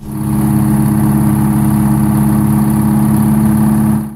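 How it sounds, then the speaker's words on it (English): A Detroit Diesel 8V71 engine runs steadily and loudly at close range, a deep rumbling drone with a rhythmic throb, constant throughout with no voices. "The Detroit Diesel 8V71 wasn't just loud, it was legendary."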